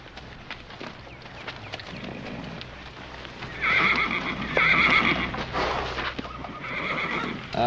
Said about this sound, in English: Didn't know that horse of yours was still alive.